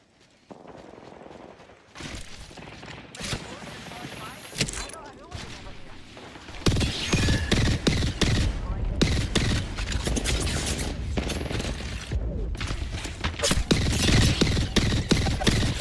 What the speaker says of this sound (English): That was a good nade.